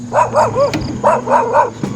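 Several dogs bark in quick bursts close by along a hilly, winding road, two tight clusters of yapping barks with a short whine between, heard over the hum of a moving electric trike.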